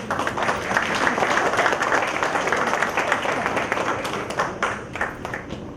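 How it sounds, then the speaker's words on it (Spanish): Strong audience applause at a public education-policy consultation event in Peru, dense steady clapping from a sizeable crowd that holds its level for several seconds with faint voices mixed in. "A ella la recibimos con fuertes aplausos."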